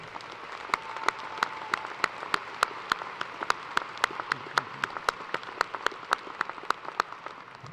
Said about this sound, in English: Let's give a round of applause for everyone who helped make this possible.